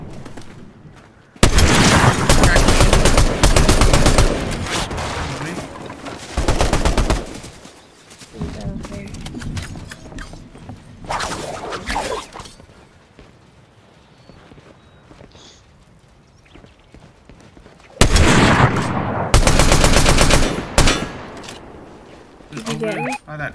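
Gunfire in the video game Fortnite arrives in loud bursts, with a long volley early, a second burst midway and another near the end, separated by quieter gaps. A player talks over parts of it.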